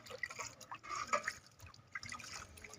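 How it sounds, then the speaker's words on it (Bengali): Fruit from a garden is washed by hand in water, giving soft splashes, drips and trickles in uneven bursts, close but quiet. "তাগুলো জলে ভালো করে ধোয়া হচ্ছে"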